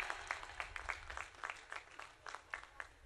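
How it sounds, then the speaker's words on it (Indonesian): Guests at a high school class reunion clapping for the organizing committee, sparse and faint, with distinct separate claps rising and falling rather than forming a full roar. "Tepuk tangan semua untuk panitia."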